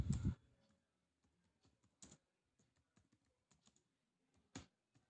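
Computer keyboard typing while entering manufacturer details for a Flipkart product listing: sparse, irregular clicks and taps, with a louder burst at the start and a few sharper keystrokes, close and quiet, no talk.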